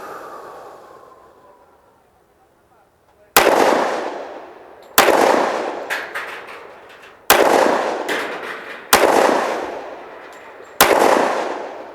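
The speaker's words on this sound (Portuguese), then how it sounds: "Mais 5 disparos." A .45 pistol fires five sharp, loud shots at target practice at 3 metres. The shots are spaced about two seconds apart, and each one rings out with a short decaying echo after a quiet lead-in.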